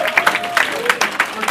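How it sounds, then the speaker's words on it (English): A comedy club audience gives a round of applause for the wait staff, uneven clapping with a few louder claps, while a voice talks over it. "Big round of applause for the wait staff."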